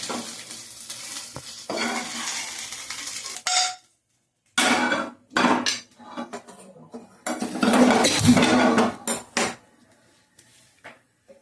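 Fried green chillies are scooped out of a pan of hot oil in short bursts of metal scraping and clatter, separated by brief pauses, with a soft sizzle underneath.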